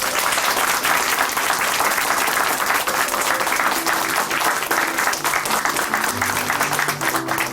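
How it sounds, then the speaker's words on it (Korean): A studio audience on a Christian testimony television program breaks into loud, sustained applause, thick and continuous, with music beginning to rise beneath it toward the end. "큰 박수로 응원해 드리겠습니다"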